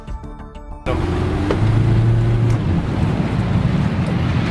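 A boat drives across a reservoir covered in partially water-filled black plastic shade balls, its steady engine drone and churning water loud and continuous after a short quieter opening.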